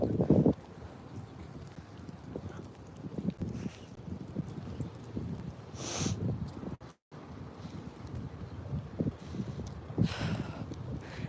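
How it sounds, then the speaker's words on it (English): Wind blowing outdoors on a hot day: a steady, breathy rush with gusts that swell and fade, broken by a brief dropout, with no talk heard. "that wind feels good"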